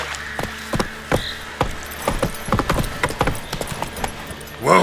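Hooves of Roach, the horse from The Witcher 3, clip-clop in a steady galloping rhythm, with sharp close hoofbeats running throughout and a short burst of noise at the very end.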